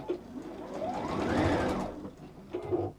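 A sewing machine stitches a Rowan bag in a steady, rapid run of needle strokes that swells in the middle and eases off, close and clear with no talking over it.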